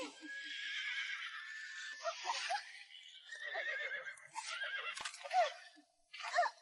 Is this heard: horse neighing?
yes